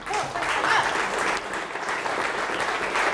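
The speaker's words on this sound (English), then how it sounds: "Massive round of applause." A conference audience at a student games industry event breaks into sustained applause, a full, even roar of clapping hands that carries steadily throughout.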